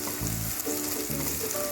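Ginger and green chillies sizzle and fry in a hot pan, a steady close crackle with faint stirring, no voices.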